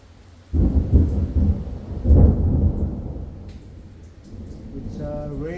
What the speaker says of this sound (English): raining very hard outside.